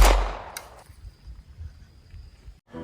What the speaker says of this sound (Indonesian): Komandan I Gusti Ngurah Rai akhirnya meninggal di tangan Jenderal Belanda dengan 1 kali tembak